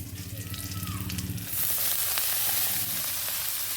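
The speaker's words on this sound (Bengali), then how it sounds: "আগে থেকে কুচনো শাকগুলো এবার কড়াইতে দিয়ে দেবো" Chopped greens dropped into hot oil in a kadai, a quiet sizzle that jumps into a loud, bright crackling burst and keeps frying steadily.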